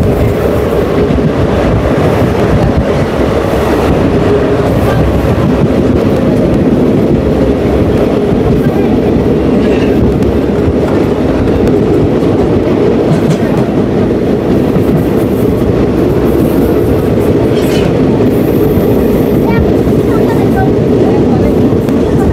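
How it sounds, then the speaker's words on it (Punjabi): A fast-running passenger train between Jalandhar and Hoshiarpur near Adampur gives a loud, continuous rumble with steady wheel and track clatter that carries on unbroken throughout. "ਟ੍ਰੇਨ ਵੱਧ ਰਹੀ ਹੈ ਬਹੁਤ ਤੇਜ਼ੀ ਦੇ ਨਾਲ"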